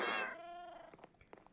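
A single short meow from a cat in Minecraft, clear and fairly close, followed by a few soft ticks and faint sounds, no voices.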